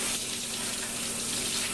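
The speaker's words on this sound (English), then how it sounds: "let me rinse this out real quick." Water running from a faucet into a container used for cherry wine while it is rinsed out, a steady close hiss and splash with no pauses.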